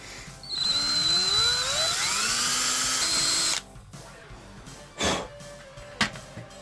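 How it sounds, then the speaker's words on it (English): A power drill with a small bit bores a pilot hole for a step bit, its motor whining and rising in pitch for about three seconds before stopping, followed by a few faint clicks and knocks. "you're going to need a drill with a small drill bit in order to start off the step bit"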